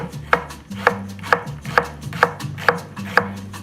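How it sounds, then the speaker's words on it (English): A knife slices onions into thin half-moons on a cutting board, striking seven crisp chops at a steady, even rhythm, each one close and distinct over faint background hum. "So I'm going to slice my onions fairly thin"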